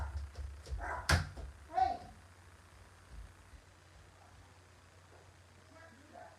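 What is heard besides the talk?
small dog barking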